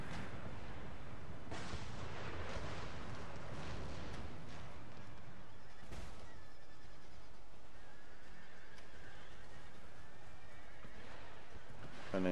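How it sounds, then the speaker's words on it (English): An artillery barrage in a Little Bighorn battle game, booming cannon shots and distant gunfire mixed with horses neighing and hooves, a dense continuous battle din with a sharp blast partway through, and no clear talking. "That's a decent barrage."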